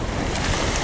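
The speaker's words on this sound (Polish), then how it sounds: "jak woda wali od brzeg." Water surges and crashes against the shore at Michalice during a flood, a continuous loud rushing roar with heavy wind buffeting the microphone.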